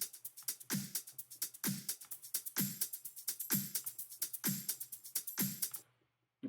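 Simple drum break loops for a progressive house track, a crisp, busy pattern of punchy hits and bright hi-hat ticks in a steady groove, played loud and alone before cutting to silence.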